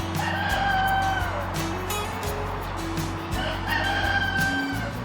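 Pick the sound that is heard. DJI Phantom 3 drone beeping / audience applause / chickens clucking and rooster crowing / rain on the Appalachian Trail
chickens clucking and rooster crowing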